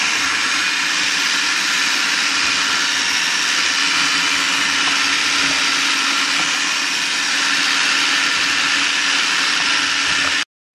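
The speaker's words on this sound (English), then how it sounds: "we need a food processor to grind all this stuff up and to chop it up first" A food processor chops carrots, onions and parsley in a steady, loud, continuous whirring drone that holds for about ten seconds and then cuts off abruptly, with no talking over it.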